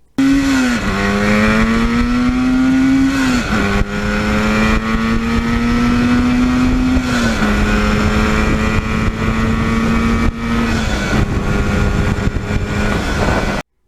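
A 1977 Yamaha RD400 two-stroke motorcycle, a Kenny Roberts replica, rides hard through the gears. Its loud, buzzing engine climbs in pitch, then drops at each of several shifts, continuous and close.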